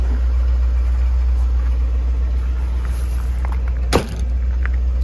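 A 1962 Ford Thunderbird's engine runs steadily with a smooth, muted idle, its deep hum continuous throughout and close by, with a brief sharp knock near the end.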